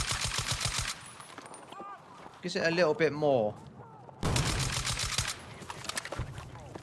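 Rapid bursts of VSSM rifle fire in a video game, loud and close, come in two separated strings with a gap between them. Someone talks briefly in that gap.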